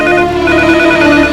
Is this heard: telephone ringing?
yes